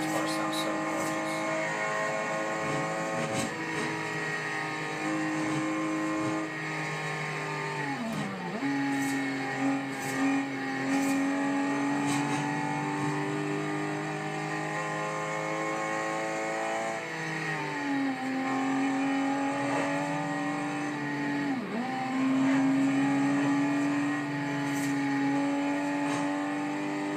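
A 2013 Aston Martin V12 Vantage S engine in the Forza Horizon 2 racing game, its V12 revving up and down through gear changes at close range, with talking over the engine note.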